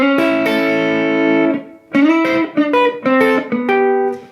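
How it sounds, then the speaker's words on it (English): Electric guitar notes hybrid-picked hard and close: one long ringing note, then a quick run of sharp, snappy notes with clear attacks. "if you really pluck it,"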